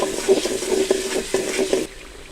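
Spices and dhania chilli sizzle in oil in a pan for achari chana pulao, with a steady fry hiss broken by repeated scraping stirs of a spoon, close and alone, ending abruptly.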